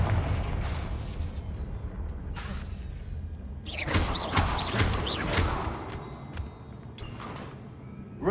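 Confringo fire-curse blast in the Hogwarts Legacy video game, a loud burst with crackling, whooshing debris over a steady game ambience, followed by a few scattered pops.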